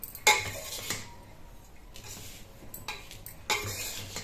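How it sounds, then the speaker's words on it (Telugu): Spice powders for Andhra mango pickle (avakaya) being stirred with a ladle, up and down through the mix; scraping and clinking of the ladle against the pot come in a few distinct bursts, close and fairly quiet, with no talking. "నేను చెయ్యి పెట్టకుండా గరిటెతో కలుపుతున్నాను."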